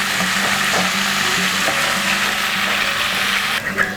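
Karimeen, pearl spot fish, frying in a pan with a loud, steady oily sizzle that crackles continuously and close up, with no one talking over it.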